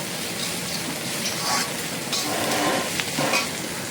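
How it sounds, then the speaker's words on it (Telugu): Salt and turmeric are stirred into hot oil in a frying pan for a ridge gourd egg curry, making a close, steady sizzle with a few louder scraping swishes of the spoon. "ఇప్పుడు వేసుకొని ఇవన్నీ ఒకసారి కలుపుకుందాము."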